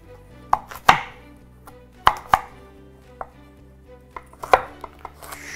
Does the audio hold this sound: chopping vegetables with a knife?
yes